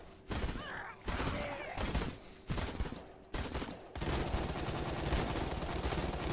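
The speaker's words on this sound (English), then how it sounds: "Oh, I get super shotgun." A super shotgun fired in the video game Gunnheim, a series of heavy blasts at roughly one-second intervals followed by a dense sustained volley of gunfire, loud and close, with no speech.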